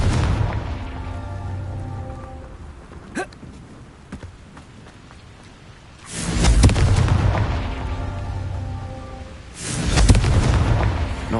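A Confringo spell erupts in Hogwarts Legacy, two heavy fiery booms that rumble and decay, separated by scattered smaller pops and a fading musical tone.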